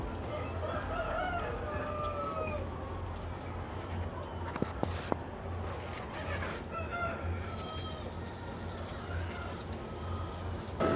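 Chickens crowing and clucking inside a poultry farm house in Saudi Arabia where laying hens roost over egg belts and wood shavings, a dense continuous flock sound with a low steady machinery hum beneath and no talk.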